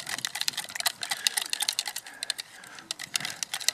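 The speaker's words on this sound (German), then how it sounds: "Das Ei habe ich hier reingeschmissen, sieht man nicht, und das soll man ja jetzt erstmal cremig verrühren" Rapid clicking and tapping of a utensil beating an egg in a bowl until creamy, a steady fast rattle close up with no talking.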